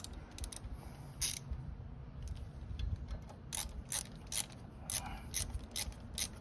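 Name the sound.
ratchet wrench turning motorcycle peg bolts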